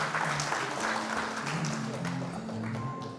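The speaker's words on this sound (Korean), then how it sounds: "박수 부탁드립니다." An audience applauds steadily, a dense wash of clapping from many hands that carries on throughout, with a faint tone and voice beneath.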